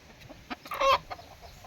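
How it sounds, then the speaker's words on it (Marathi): A farm rooster kept for breeding clucks in a few short bursts, one louder call near the middle, fairly close by on a rural fish and poultry farm. "कोंबडा बघा ब्रिडिंगसाठी ठेवलेला कोंबडा"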